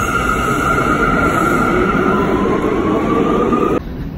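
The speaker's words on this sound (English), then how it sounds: "I just got off the train." A train rolls steadily along the rails, a loud continuous rumble with a sustained high whine and hiss throughout, dropping off abruptly near the end.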